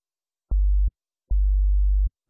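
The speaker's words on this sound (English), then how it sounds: "Oscillator A is our sine wave. Oscillator B will control the frequency modulation." Two sustained sine wave bass notes made with FM synthesis in Serum for drum and bass, a short one and then a longer one, each with a clicky attack, clean and loud against silence.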